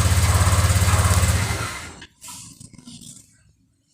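A Honda Vario motorcycle engine starts from a remote alarm and runs for about two seconds with a loud, close, fast-pulsing putter, then cuts out, leaving quieter clicks and rustling.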